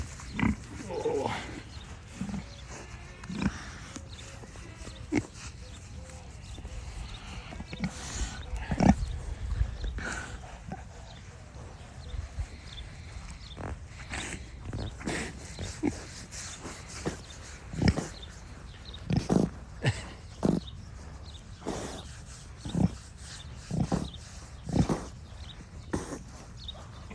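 Big pigs grunt repeatedly while getting belly rubs, short low grunts and snorts coming at irregular intervals, close by, with rustling and shuffling movement in between.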